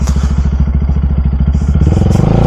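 Motorcycle engine running close up with a steady, throbbing low pulse throughout, ridden slowly on a wet, rainy day, with light clatter over the rumble.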